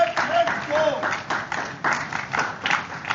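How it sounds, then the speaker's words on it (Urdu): A crowd at a scouts camporee prize distribution ceremony claps for a guest invited to the stage, rhythmic clapping in bursts with a voice speaking over it. "آپ سب کی تالیوں میں"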